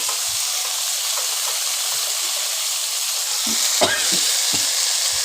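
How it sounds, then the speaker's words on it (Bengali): Bheto greens are stirred with potatoes in a frying pan over a constant hissing sizzle, with scattered scrapes and thumps of the spoon growing busier toward the end, close and clear. "এবার শাকগুলো আলুর সাথে ভালো করে নাড়াচাড়া করে নেব"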